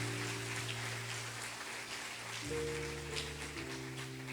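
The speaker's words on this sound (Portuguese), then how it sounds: "Aplaude o teu Senhor, aplaude." A church congregation applauds during a sermon, a faint, dense rain-like patter of many hands clapping at a distance beneath steady sustained keyboard chords.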